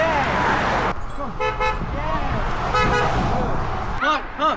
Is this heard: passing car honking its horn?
yes